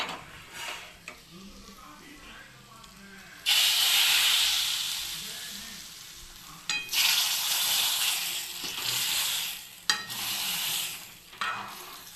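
A tadka of asafoetida and Kashmiri red chili powder hits hot oil for paneer, bursting into loud hissing sizzles in several surges, with quieter stirring and pan sounds between them.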